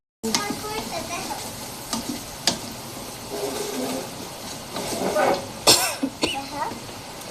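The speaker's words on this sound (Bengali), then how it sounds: "আমার রসুনটা ভাজা হয়ে গেছে, এখন আমার পেঁয়াজ একসাথে মিলিয়ে" Garlic and onion frying together in a pan for a lentil and egg dish, a low steady sizzle with occasional stirring scrapes, partly masked by nearby coughs and throat clearing.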